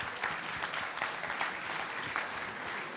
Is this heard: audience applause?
yes